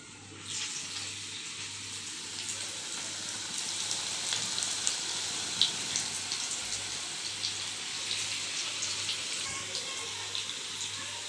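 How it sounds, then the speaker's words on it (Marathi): Onion bhaji frying in hot oil, a steady bright sizzle held at an even level throughout, with a low electrical hum underneath and no talking. "आता मी हे असेच आणखी भजी तळून घेते."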